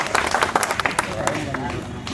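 A group of quiz students clap for the day's topper in a classroom discussion session, a short burst of uneven, moderately loud claps over background chatter.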